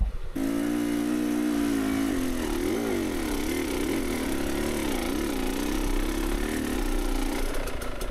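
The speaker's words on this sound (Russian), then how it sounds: "Я надеюсь, в этот раз всем слышно, как работает мотор" A two-stroke 300 motorcycle engine fitted with an XTNG GEN3+ carburetor runs close and loud in a quiet spot, with a buzzing idle that rises and falls in a few blips of throttle before settling again.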